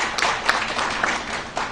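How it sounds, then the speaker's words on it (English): An audience in a hotel event hall claps steadily for a family being honoured, a fairly close, moderate patter of many hands with a few sharper individual claps standing out. "A big round of applause for Johal family."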